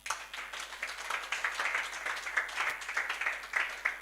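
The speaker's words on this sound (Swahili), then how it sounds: "Pigeni makofi." A church congregation applauds after a prayer of deliverance, a moderate, uneven patter of clapping from many hands that swells and fades in waves with no talk over it.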